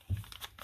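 Paper crinkles and tears in a quick, faint handful of rustles while book page edges are ripped for a nature journal, with no voice over it.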